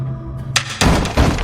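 A wine bottle is smashed over a man's skull, a sharp crash followed by heavy thuds and scattered breaking, loud and close with no speech.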